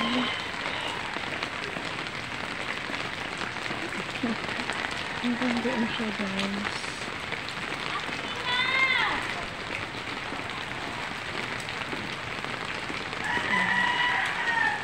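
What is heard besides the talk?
heavy rain during typhoon Carina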